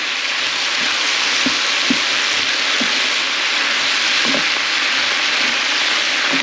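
Glass noodles with shrimps and bok choy stir-fried in a pan, a loud, constant close sizzle with occasional soft clacks of the utensil turning the food.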